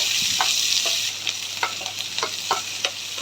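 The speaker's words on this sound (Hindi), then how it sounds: "इसको मुझे पकाना नहीं है, मैं इसको सौटे करूँगी बस" Garlic, capsicum and green chili cubes sautéing in a pan, a steady hiss of frying with a spatula scraping and tapping several times at an uneven rhythm, close and fairly loud, with no talking.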